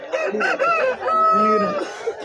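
A black Kakinada rooster at a poultry market crows loudly and close by, a long harmonic call with clucking notes around it.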